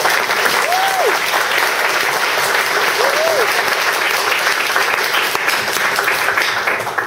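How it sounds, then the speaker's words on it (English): A tech talk audience gives sustained applause, a loud, even roar of many hands clapping with a couple of brief whistles early on, tapering slightly at the close. "I want to give a great big round of applause to Srivas."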